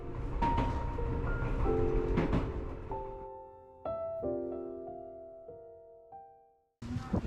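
Train heading towards Mount Fuji from Otsuki, a ride with rolling rumble and clatter followed by sustained tonal whines and squeals from the train as it slows, then a brief burst of noise at the end.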